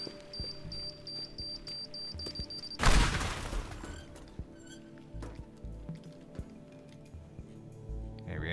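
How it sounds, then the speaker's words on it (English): Vending machines smashed apart in the voxel destruction game Teardown, with a sudden loud burst of shattering debris, then scattered clatter and crumbling pieces settling. "We'll destroy the vending machines."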